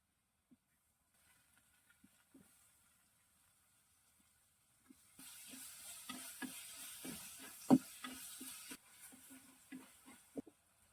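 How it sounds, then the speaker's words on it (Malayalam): Near silence with a few light taps, then a sudden hissing sizzle starts, with utensil clinks and scrapes as onions are stirred in a pan. "കോഴി മുളകിട്ട് കണ്ട് അതിനു വേണ്ടിയിട്ട് ഉള്ള ഉള്ളിയൊക്കെ വാട്ടിയെടുക്കുകയാണ്"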